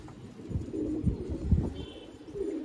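Pigeons from a breeding setup coo in low, repeated pulses while bathing together in water, a steady murmur of several birds close by with no talk.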